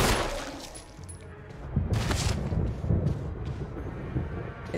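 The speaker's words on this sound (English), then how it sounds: "I'll just keep trying to shoot him." Gunfire in the Resident Evil survival-horror video game: several sharp shots with booming tails burst out over a low rumbling background, loud and close, with no talking.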